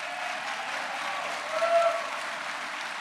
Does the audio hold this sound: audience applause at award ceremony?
yes